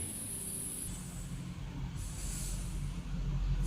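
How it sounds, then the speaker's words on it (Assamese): Very hot oil is poured over sweet jolphai (olive) pickle in a jar, making a steady, fairly loud hissing sizzle that runs unbroken throughout, with no voices. "এয়া চাওক একদম গৰমে তেলখিনি ইয়াত পূৰা ঢালি দিলোঁ"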